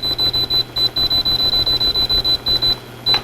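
Instant Pot pressure cooker beeping repeatedly as its timer buttons are pressed to set ten minutes, a rapid run of about twenty sharp, evenly spaced electronic beeps, close and loud, with a brief gap before a final beep.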